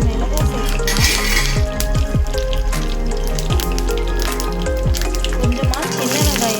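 Mustard seeds, curry leaves and chilies sizzling in hot oil in a pan, a loud steady crackle with frequent sharp pops and spits, and talk over it, while preparing a quail egg curry.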